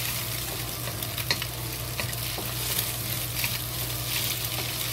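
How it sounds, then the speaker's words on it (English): Egg fries in a pot with a steady sizzle while a utensil stirs it, scraping and tapping at irregular moments over the continuous hiss. "Slowly fry the egg."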